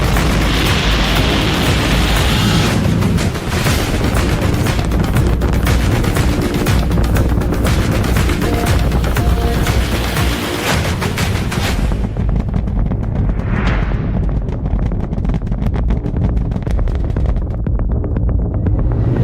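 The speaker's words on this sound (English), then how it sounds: "Flight directors go for launch. We have liftoff." A massive, continuous roar from a SpaceX rocket at liftoff, with crackling, distorted rumble, loud and unbroken for many seconds before its highs fade with distance.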